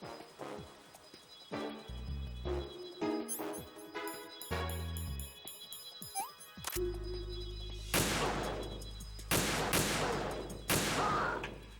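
Video game gunfire in Metal Gear Solid 2: tonal game sounds give way to a cluster of loud, close shots fired in quick bursts over a steady low hum.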